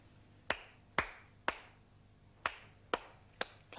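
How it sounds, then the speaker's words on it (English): A single person claps in a quiet room, giving seven sharp, close hand claps at a steady, unhurried pace with one brief pause midway. "Clap your hands."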